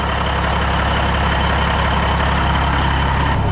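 A Peterbilt diesel truck engine runs loud and close after a very cold start, holding a constant, heavy rumbling drone without a break.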